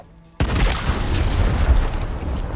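A frag grenade detonating in the video game Gears Tactics: quiet ticking, then one sudden loud boom followed by a long, rumbling blast tail that stays heavy for a couple of seconds.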